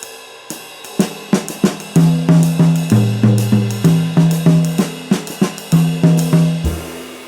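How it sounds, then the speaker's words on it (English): A drum kit plays quarter-note triplet phrasing on snare and bass drum against a jazz ride cymbal: crisp, evenly spaced hits close up and loud, with no voices. "we are going to play quarter note triplet phrasing across the"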